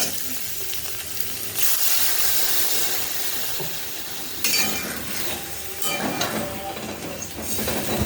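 Water poured into a pan of potatoes already fried red, setting off a loud, steady sizzle and hiss of steam that surges at intervals and keeps bubbling throughout, with no talking.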